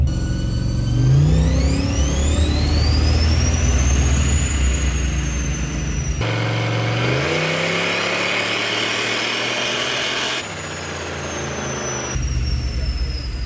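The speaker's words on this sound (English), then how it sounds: "let off the brake full throttle, let it rip" A turbocharged police car launches from the brake at full throttle, engine roaring close and loud as its pitch climbs steadily, with a rising high turbo whine, a brief gear change and a second pull.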